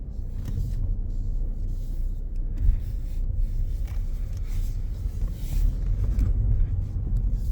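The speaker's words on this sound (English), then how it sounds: "Vehicle's going to fire right up for us." A 2021 Jaguar F-Type R-Dynamic idles and creeps out of a garage, a low steady engine rumble heard from inside the car, with faint rubbing and clicking noises and no talking.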